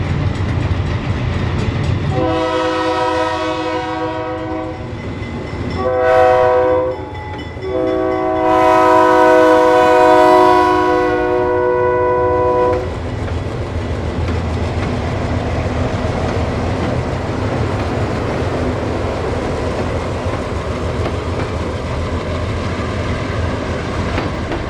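Delaware-Lackawanna Railroad Alco locomotives pass close by amid fall foliage, sounding a loud multi-tone horn in several blasts, short and long, over a rumbling engine that continues as the train rolls past.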